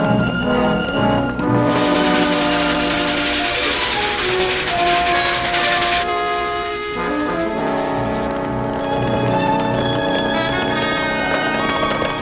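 A steam train runs along the line with its whistle sounding in long sustained tones over the continuous rumble and clatter of the cars, loud and close, with no talk.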